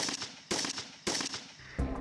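Several sharp gunshots ring out in quick bursts, loud cracks echoing with short pauses between them.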